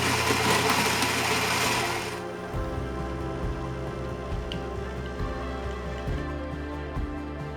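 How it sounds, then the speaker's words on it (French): A Philips Series 3200 coffee machine making iced coffee gives a steady mechanical whirr that drops after a couple of seconds into a softer hum with light, regular ticking and dripping, close by and with no talking. "Maintenant, nous allons faire un café glacé."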